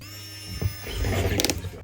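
A small electric screwdriver whirs briefly, close and fairly quiet, as screws are driven into a Samsung Galaxy S25 Ultra during a screen and back cover repair, with a short rising buzz near the end.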